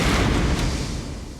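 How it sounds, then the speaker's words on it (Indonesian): A loud cartoon explosion in an anime scene: a heavy, dense boom that fills the moment and slowly trails off over about a second and a half, with no talk. "Apa kau mendengar suara ledakan itu?"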